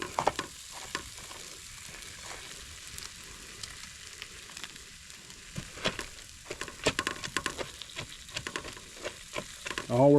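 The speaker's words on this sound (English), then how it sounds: "let that rice just kind of warm up on that low heat" Instant white rice frying in oil in a pan over low heat at a riverside camp, a soft steady sizzle with intermittent scraping stirs growing busier toward the end.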